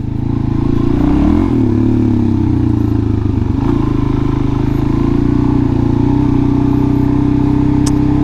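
Suzuki DRZ400SM supermoto motorcycle ridden off-road on rural ground, its engine droning loud and steady close by, with a rev rise near the start and wind and rattle throughout.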